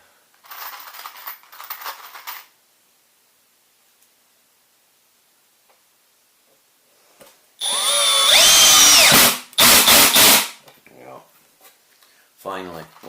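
Power screwdriver set to torque setting 8 driving Stick Fit screws, with two loud whirring bursts a few seconds apart, a brief quieter rasp earlier on, and a short scraping sound near the end.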